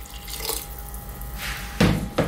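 Liquid is splashed into a garlic rosemary lamb stew in a pressure cooker, giving soft watery pours and drips with a couple of brief, sharper splashes near the end.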